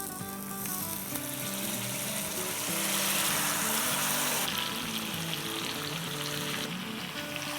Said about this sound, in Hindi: चलें अब हम इसमें अपना चिकन डाल देते हैं